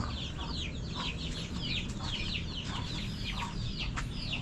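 Several chickens cluck and chirp repeatedly in a busy, overlapping chorus, with a steady low rumble underneath.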